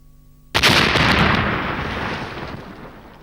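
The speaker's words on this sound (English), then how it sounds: "A high explosive anti-tank round was fired into an armored vehicle fitted with an SMB explosion" A high explosive anti-tank round detonates inside an armored vehicle fitted with an explosion suppression system: one sudden loud blast that rumbles and slowly decays over a few seconds, with no talking.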